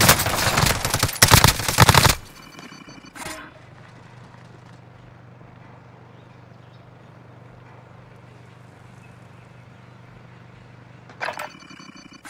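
A short, dense burst of rapid automatic gunfire in Call of Duty: Modern Warfare, then a long quiet stretch of low hum with faint scattered noises and a brief sharp rattle near the end.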